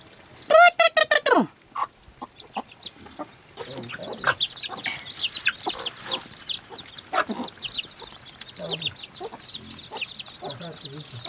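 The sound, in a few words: rooster clucking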